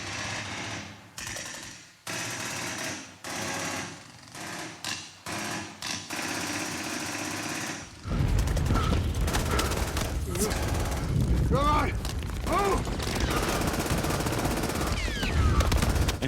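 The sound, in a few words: German MG42 machine gun firing in Saving Private Ryan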